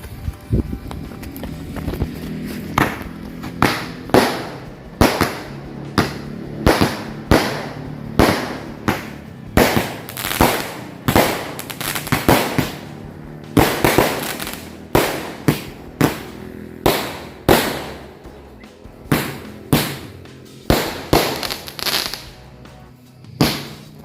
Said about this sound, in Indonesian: sekarang kita nyalakan mercon Imlek Super Jumbo